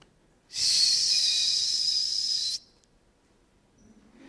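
A person imitates a shepherd's whistle during a live church sermon: one loud, steady, high-pitched whistle held for about two seconds, then quiet.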